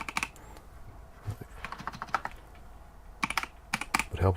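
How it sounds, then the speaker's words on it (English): Fast clicking keystrokes on a computer keyboard, coming in quick irregular bursts with short pauses, close and fairly quiet, with no voices. "Would help if I could type."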